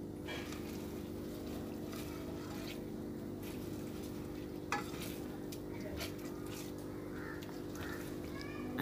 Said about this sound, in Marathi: छान अंडी आपली भाजली गेलेली आहेत।